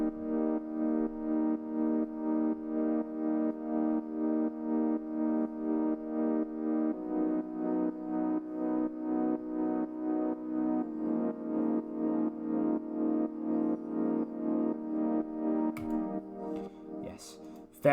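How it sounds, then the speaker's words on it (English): Sustained synth chords from a Diva bass lead preset, a bright, evenly pulsing pad that shifts harmony twice before fading out with a brief noisy tail, heard alone without voices. "where I started was with these chords, and they alone sound like this"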